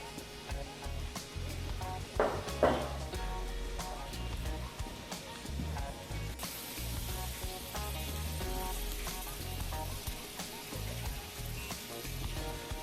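About a cup of waffle batter hits a hot waffle iron for chicken and waffles and sizzles steadily. A brief clatter early on breaks the sound, and a soft, constant frying hiss fills the rest.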